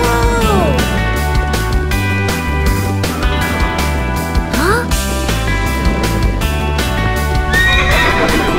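A cartoon Pegasus, a winged horse, neighs and whinnies in a playful animated scene, its calls rising over a busy, steady musical backing with hoof-like clip-clop accents.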